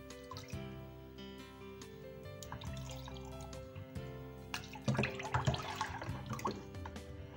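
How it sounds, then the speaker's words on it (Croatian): Water is poured from above over filled glass jars of peppers and tomatoes being prepared for winter preserves, a steady close splashing and trickling stream that swells louder toward the end, with no talk. "sa vodom da prelijem svaku teglu."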